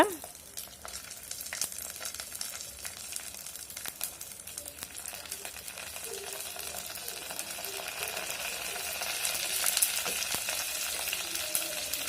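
Curry leaves crackling in hot oil in a clay pot, a continuous close frying sizzle with scattered pops and scraping stirs that swell louder toward the end, without speech.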